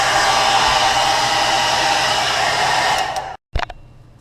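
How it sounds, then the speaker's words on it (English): A hair dryer blows close and loud in a steady whoosh while heat-setting paint on a fishing crankbait, then cuts off abruptly near the end with a short restart burst. "I'm going to heat set that with my hairdryer,"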